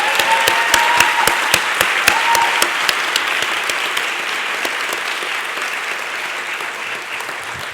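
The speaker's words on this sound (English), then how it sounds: "Please join me in applauding these students." Audience applause for students at a school board meeting, a room full of clapping with a few sharp individual claps early on, steady and fairly loud before gradually thinning.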